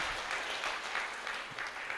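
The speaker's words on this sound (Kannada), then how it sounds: "ಎಲ್ಲರೂ ಸಹ ಜೋರಾಗಿ ಚಪ್ಪಾಳೆ ಒಂದಿಗೆ ಸನ್ಮಾನ ಮಾಡಬೇಕು" A crowd claps steadily and loudly throughout, a continuous wash of audience applause at a religious worship gathering in Haveri, honouring a young boy and his parents.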